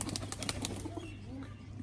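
Pigeons flutter and flap their wings close by, with a few soft coos over a low steady hum.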